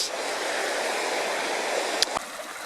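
A shallow river in the Scottish highlands in winter, rushing over rocks, a steady close broadband roar of flowing water with a couple of brief knocks near the end.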